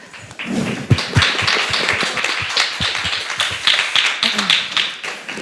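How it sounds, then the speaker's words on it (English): An audience at a science journalism conference session claps together, producing a dense, steady wash of clapping with sharp hand claps popping out, sustained for several seconds. "Round of applause."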